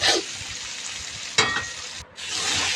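Pointed gourd being stirred in a hot pan of oil, a steady sizzle broken by sharp scraping strokes of the spoon, close up with no voices.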